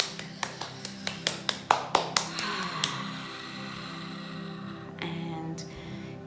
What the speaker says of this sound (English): clear the energy with a counterclockwise clapping